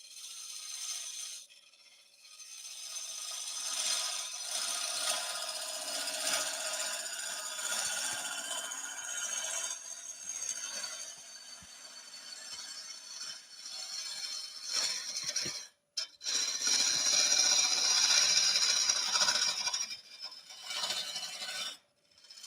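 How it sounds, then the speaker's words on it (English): A wood lathe spins a yew hollow form while a tool rasps against the wood in a continuous scraping hiss. There is a short break about two-thirds through, and then the cutting resumes just as steadily. "I want to get that lathe speed up a bit more as well"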